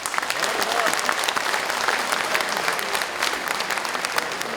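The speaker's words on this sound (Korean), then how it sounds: "큰 박수 한번 부탁합니다" Full audience applause at a Democratic Party appointment ceremony in Korea, dense and steady from start to finish, with a faint voice underneath.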